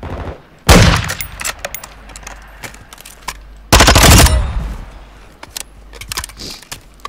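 Two loud, close bursts of automatic gunfire in Call of Duty MW2 Warzone DMZ, separated by a few seconds, with scattered sharp clicks and distant shots between them.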